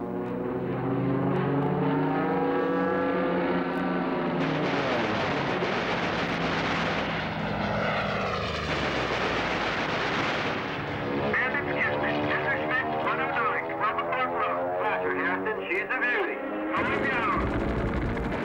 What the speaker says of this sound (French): La DCA se déchaîne sans égard pour le pilote allemand qui doit être complètement perdu.